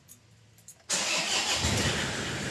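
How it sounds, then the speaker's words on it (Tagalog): A Toyota Hilux pickup engine starts abruptly after a few quiet clicks, catching at once into a loud, rough close idle that runs steadily to the end. "Start ko na nga itong makina."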